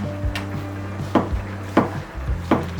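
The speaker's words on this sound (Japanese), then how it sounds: "でタコの続きを切っていこうか。" A knife slices through octopus on a cutting board in a home kitchen, making four or five dull, evenly spaced knocks over a low background hum.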